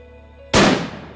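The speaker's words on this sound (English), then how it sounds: "it's important to test fire our rifles to ensure they're still on 0 following a lengthy journey" A single loud rifle shot test-fired at a hunting range in Hungary before a wild boar stalk, a sharp sudden blast followed by a rolling decay, with quiet background before it.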